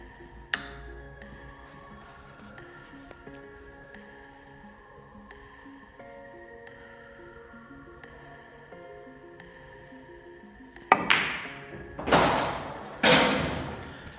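A pool shot with the cue ball striking an object ball and rebounding off multiple rails: a few sharp clicks and knocks, then louder thuds near the end, close, with faint talk in the background.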